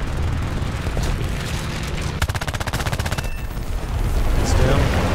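Rapid aircraft cannon fire from a Nimrod Mk I in War Thunder air arcade combat, a fast rattling burst standing out over a steady engine drone, then giving way to loud roaring noise.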